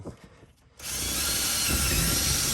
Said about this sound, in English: we're going to drill right through